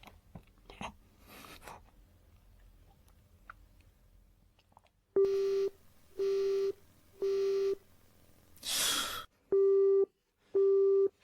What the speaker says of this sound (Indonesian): Angkat. Angkat teleponnya.